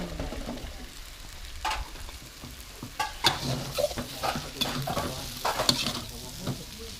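Mama instant noodles stir-fried with dried chilies, oyster sauce and dark soy in a hot pan; a steady sizzle with repeated scraping and tossing of the spatula, close and moderately loud.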